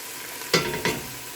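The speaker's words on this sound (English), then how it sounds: "And let's stir that." Ingredients for udon chicken soup with bok choy are stirred in a pot, two quick scraping, sizzling strokes over a low, quiet background.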